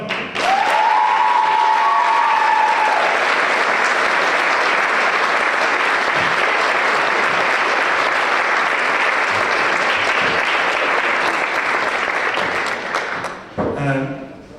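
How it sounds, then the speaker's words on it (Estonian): A live show audience gives big applause, loud dense clapping with cheers and a whistle at the start, holding strong for over ten seconds before tapering as a voice begins to speak. "Suur aplaus, palun!"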